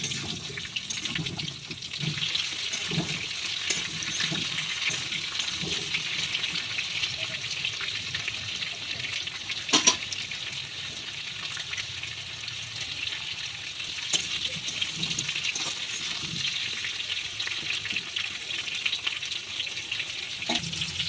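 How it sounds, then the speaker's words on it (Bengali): Pieces of pointed gourd fry in hot oil in a pan, giving a long, steady sizzle with occasional crackles and a louder splatter midway, with no voices over it. "পটলগুলো আমি একটু লালচে করে ভেজে নেব।"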